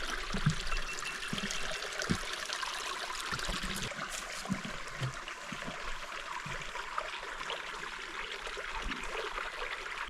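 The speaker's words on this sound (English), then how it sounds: "You can hear the water running." Creek water runs and trickles under a small footbridge on a forest hiking trail in Alaska's Tongass National Forest, a steady close babble with small splashy bursts, heard alone without talk.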